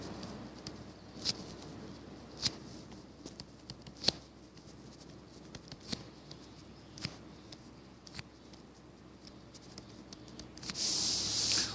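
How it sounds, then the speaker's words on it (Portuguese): Chalk or a marker taps and scratches on a board in short, sharp strokes at irregular intervals. The strokes are faint against a quiet room, and a brief burst of hiss comes at the end. "Então eu vou escrever aqui"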